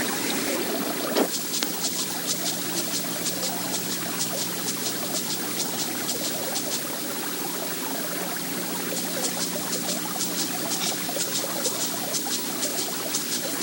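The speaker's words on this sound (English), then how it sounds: "It becomes a creek of water flowing in a trench of ice." Creek water flowing in a trench of ice in the wilderness, a steady soft trickling and gurgling that runs evenly throughout, fairly faint and alone.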